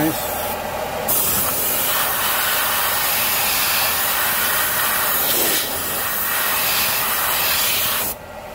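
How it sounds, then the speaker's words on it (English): A loud, continuous hiss of brake cleaner aerosol sprayed onto a car's leaking power steering hose, close up, with brief breaks and changes in the spray before it cuts off near the end. "So I'm going to brake clean this."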